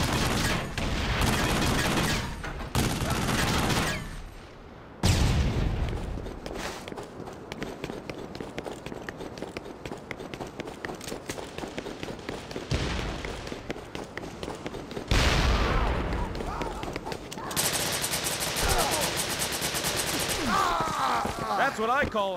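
Gunfire in a Devil's Third multiplayer match, with dense bursts of rapid shots and sustained firing in loud stretches, broken by quieter moments with footsteps and game sounds, and brief speech mixed in.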